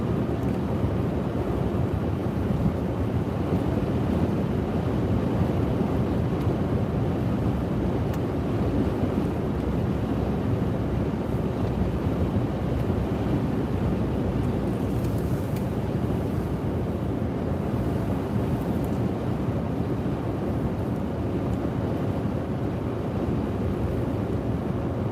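Wind roars steadily against the microphone along an Iowa road north of Grimes during a December blizzard, a dense low rumbling buffet that stays loud and unbroken throughout with no voices.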